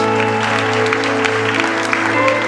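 A church congregation applauds in a steady wash of clapping, mixed with sustained musical tones that continue beneath it.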